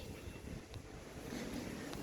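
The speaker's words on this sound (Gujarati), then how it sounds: "અહીંયા બાઇક પડ્યા હોય ને તોય ઉડી ગયા એવો પવન" Strong wind gusting near a railway station in Morbi, a steady rumbling roar with buffeting low noise that builds slightly toward the end, with no one speaking.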